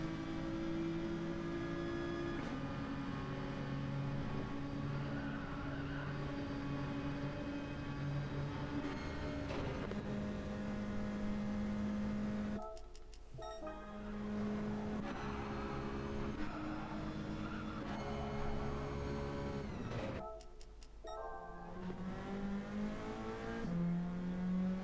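Race cars in Gran Turismo 7 roar continuously with steady engine tones that shift pitch through gear changes, broken by two brief drops around mid-clip, with no talk.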